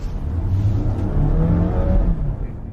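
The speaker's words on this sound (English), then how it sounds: "the car starts pretty well, but accelerates quickly" A DS 7 Crossback E-Tense car accelerates with a steady, rising engine and road drone heard from inside the cabin, loud and continuous with no speech.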